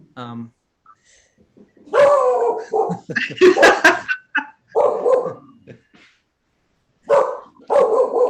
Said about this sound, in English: My dog's about to bark.